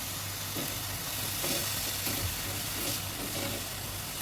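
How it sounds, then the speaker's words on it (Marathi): Grated radish sautéing in a pan gives a steady, close frying sizzle with light stirring scrapes, continuous and unbroken throughout, with no voices. "किसलेला मुळा हे आपल्याला परतून घ्यायचे. मुळ्याला थोडा उग्र वास असतो, तो जाईपर्यंत आपल्याला परतून घ्यायचे."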